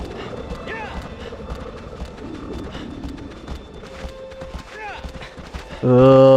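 Horse hooves clip-clop in the video game Shadow of the Colossus, a steady galloping patter running through the clip alongside a busy game soundtrack, with a louder musical burst near the end.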